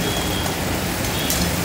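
Water poured into a pan of hot cooked spice masala for an egg curry gravy, giving a loud, dense, steady sizzling hiss with no pauses, close up and alone.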